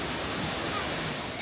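A waterfall in Luzon, Philippines pours as a steady, broad roar of falling water, unbroken and fairly loud throughout, with no voices over it.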